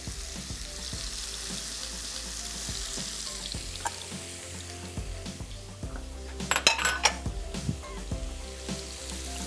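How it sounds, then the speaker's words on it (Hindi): Kebabs shallow fry in two to three tablespoons of oil, giving a steady close sizzle with repeated light clinks and scrapes of a utensil against the pan, and a brief louder rattle partway through. "यहाँ पे बहुत थोड़े से ऑयल में तकरीबन 2 और 3 टेबल स्पून ऑयल के अंदर इन कबाबों को हमने शैलो फ्राई कर लेना है।"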